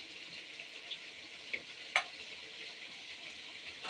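Spring onions and potatoes drop into mutton frying in a pan, giving a soft steady sizzle with a few faint stirring clicks and a sharper tap partway through.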